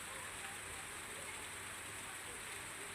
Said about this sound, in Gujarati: ખેડબ્રહ્મા અને આસપાસના વિસ્તારમાં ધોધમાર વરસાદ